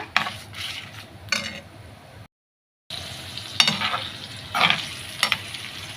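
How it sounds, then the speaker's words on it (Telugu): Split pigeon-pea lentils, curry leaves, cumin and dried red chilies frying in oil, with a continuous close sizzle and a few scraping stirs of a spoon against the pan; the sound drops out briefly midway, then resumes. "ముందుగా ఆయిల్ వేసుకొని వాటిలో అయితే కందిపప్పు కరివేపాకు జీలకర్ర ఎండుమిరపకాయలు అయితే వేసి ఇలా అయితే వేయించుకుంటున్నాను"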